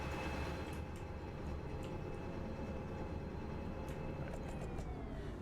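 A locomotive in the train game Derail Valley rumbles steadily with a dense, low engine drone and faint higher tones, with no talking.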